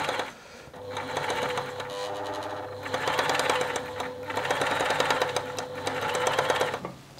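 A Tony CM 500 sewing machine stitches through fabric in steady rapid bursts, its needle clatter rising and easing in several close, fairly quiet runs with short pauses between.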